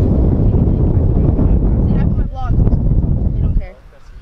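Strong wind at Canyon Lake roars and buffets the microphone in a loud, steady low rumble that dips briefly and then drops away near the end, with faint voices showing through.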